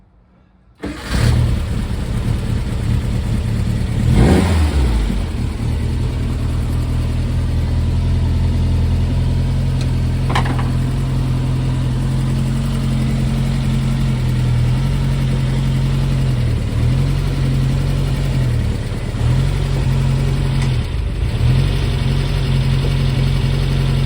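An old Brubaker Box car engine cranks over and fires up after a faint start, settling into a steady, loud idle with a low rumble and brief revs, close by, with no talk over it.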